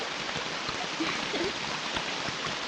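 Light, thread-like rain falling steadily, a soft continuous hiss of drops close by with no voices, in a Malayalam film scene.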